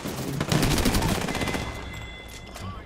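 Rapid automatic gunfire in the video game Apex Legends, a loud dense burst of shots that fades over about two seconds, with a thin high ringing tone lingering.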